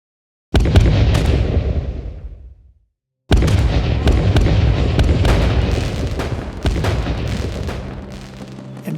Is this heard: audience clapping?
no